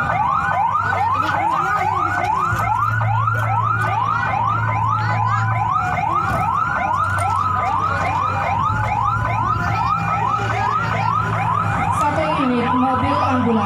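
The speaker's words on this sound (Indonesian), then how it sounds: "Mobil ambulan dari KKP Merak telah tiba di posko kesehatan" A loud ambulance siren wails continuously during an earthquake and tsunami disaster drill at a port, rising and falling in a fast repeating cycle, with a low engine rumble underneath.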